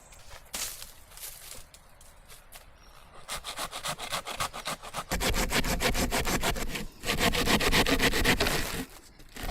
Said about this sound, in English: Selecting a tree trunk with suitable diameter, sawing it into round slices, creating floor blocks.